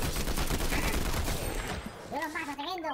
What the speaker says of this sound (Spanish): Hay disparos, hay disparos.